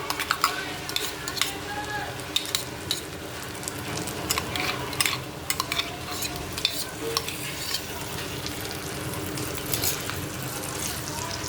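Onion and tomato paste being stirred in a hot pan for a batani chaat, with a steady sizzle and frequent scraping and clinking from a utensil against the pan, close and continuous throughout.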